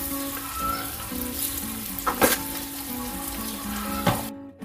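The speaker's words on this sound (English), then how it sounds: "I will stir it like this, and you also need to stir it continuously like this because it will prevent from sticking at the bottom." Chicken gizzard curry with chili powder and salt sizzles steadily in a pan, stirred continuously, with a couple of louder scraping stir strokes near the middle and end, over a low hum of background tones.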